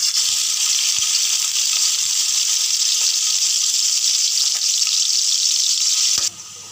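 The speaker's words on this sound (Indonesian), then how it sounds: "kita goreng dulu isi ayam kita." Chicken filling fries in a pan with a loud, dense, steady sizzle close by, running without a break for about six seconds before abruptly cutting out.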